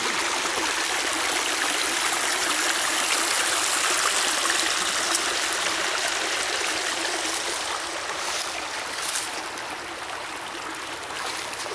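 Water flowing in Cane Creek in Cherokee County, South Carolina, a steady broadband rush and trickle heard up close, continuous for the whole stretch and easing slightly toward the end, with no voices.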